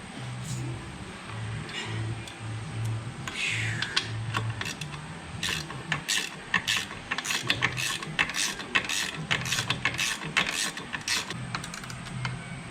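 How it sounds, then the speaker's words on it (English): Ratchet clicking steadily as bolts are tightened to secure a solenoid on a 2013 Yamaha G29 golf cart, repeated sharp close pawl clicks in bursts with brief pauses, no talk. "Now we'll tighten up the other side, and then the solenoid is secure."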